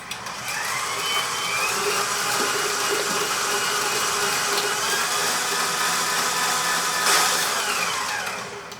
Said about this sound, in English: switch to your whisk attachment and